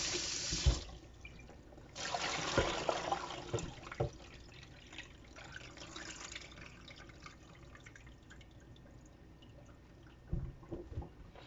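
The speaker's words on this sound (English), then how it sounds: "Okay, let's wash the apples. Let's wash the salt out." Salted apples are rinsed in a bowl under running sink water, a faint trickle with soft splashes and clunks of fruit and bowl, quiet and close, with no talking.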